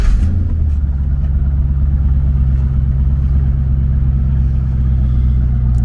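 A 2002 Chevy C5 Corvette engine running, a loud, steady, deep idle rumble heard from inside the car, throbbing evenly throughout with no talking.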